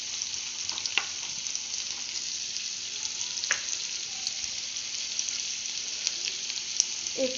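Onions fry in a pan for egg keema masala, giving a steady hiss of sizzling oil broken by occasional sharp clicks as the pan is stirred, with no talk.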